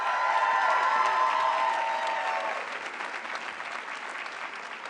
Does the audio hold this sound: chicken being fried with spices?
no